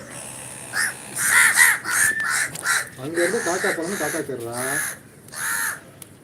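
Crows caw loudly and repeatedly nearby in harsh bursts, while people talk in between and underneath the calls.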